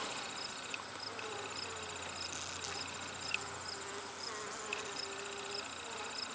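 Steady, dense buzzing of honeybees in a hive fills the whole stretch, a close, continuous hum of many bees with faint higher whines layered over it.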